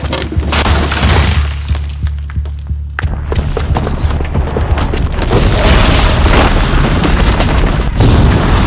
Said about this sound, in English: Because the booby trap on the bomb downstairs is gonna get set off.